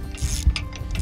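A 9/16 socket wrench ratchets on a bolt at a tractor canopy bracket, giving a few quick close clicks and mechanical ticks in a short burst.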